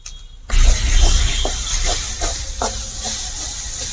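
Chilli powder tipped into a hot pan of oil for a Bengali fish curry with potatoes, bursting into a loud, close sizzle and hiss after a quiet start, with a few scraping stirs as it settles into a steady fry.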